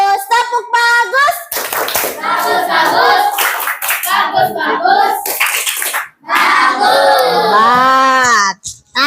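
Children in a classroom clap their hands in short bursts, mixed with close children's voices singing and talking over most of the stretch.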